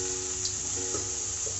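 Spice masala frying over a high flame in a pan, a continuous dense sizzle with a few faint stirring touches, steady and close.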